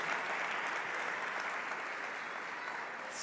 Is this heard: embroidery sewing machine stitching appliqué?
no